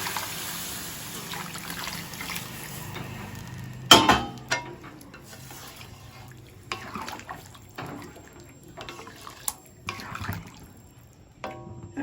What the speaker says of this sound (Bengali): আমি পুরো জলটা, আমি তেজপাতা এগুলো ফেলছি না কিছু, এগুলো শুদ্ধই আমি এর মধ্যে ঢেলে দিলাম